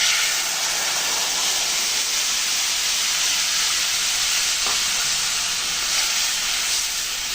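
Mustard masala paste meets hot oil with turmeric for a mustard hilsa curry, giving a steady, loud sizzling hiss that runs unbroken from start to finish.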